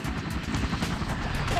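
A helicopter in the video game Emergency 4 gives off a steady rotor drone, a fairly loud continuous rumble with faint chopping pulses throughout.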